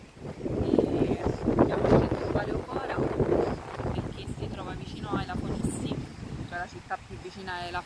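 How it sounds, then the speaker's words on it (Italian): Gusty wind buffets the microphone on an exposed Cretan coast, a loud, continuous low rumble that swells and dips throughout, with faint voices mixed in underneath. "qua c'è un ventino. Vediamoci il cartello che c'è il vento"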